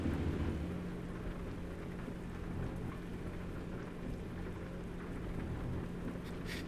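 Steady rain with low thunder rumbling in American Truck Simulator while hauling a load through British Columbia toward Washington, a constant dense wash of rainfall that stays at an even loudness throughout with no voices.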